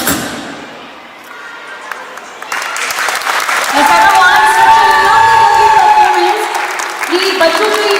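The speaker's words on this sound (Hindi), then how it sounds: "कि बच्चों की जो एनर्जी लेवल था उसके अकॉर्डिंग ये तालियां बहुत कम थी" Applause and cheering from an audience at a flash mob dance in Sriganganagar, starting thin and swelling into steady, loud clapping with shouts over the last half, the crowd close and busy with some voices mixed in.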